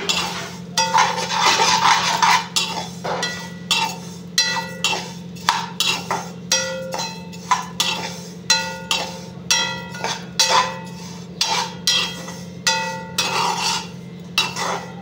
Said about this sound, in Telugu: నెయ్యి వేసుకొని మంచిగా వేపుకోవాలి.